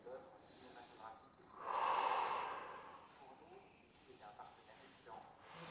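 A long, audible breath drawn in during a Pilates exercise, rising and fading over a couple of seconds, close to the mic, with softer breathing around it.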